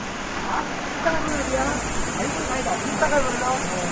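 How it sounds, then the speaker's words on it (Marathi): Roar of a large waterfall on a trek near Sawantwadi: a steady, dense wash of broadband noise fills the whole clip without pause, with faint voices underneath. "भरपूर मोठा आवाज इथे जातोय पाहूयात आपण हा धबधबा"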